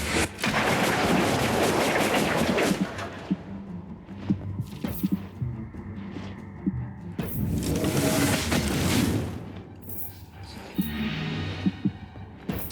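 A loud volley of massed gunfire bursts out in Disciples: Liberation, dense crackling shots for several seconds, then a pause and further rolling bursts with scattered single reports.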